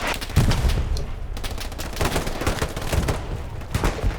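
Trench gun shotgun blasts hip-fired during a competitive video game match, heard as several loud, broadband bursts spread across a dense, busy battle soundscape with continuous background gunfire and no clear talk.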